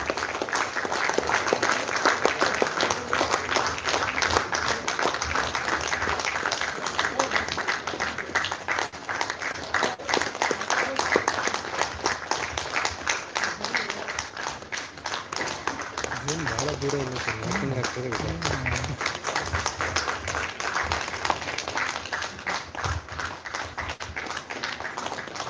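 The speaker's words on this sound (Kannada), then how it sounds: "May we have a big round of applause, audience?" An audience applauding at a Teachers Day celebration program, dense sustained clapping filling the hall for the whole stretch, with a voice speaking over it midway.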